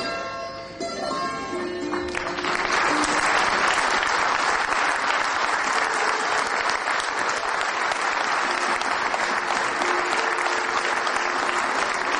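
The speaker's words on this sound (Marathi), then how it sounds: "आपण इतके उत्स्फूर्तपणाने टाळ्या वाजवतात." A large crowd breaks into loud, sustained applause after a brief musical tone fades, clapping continuing steadily throughout.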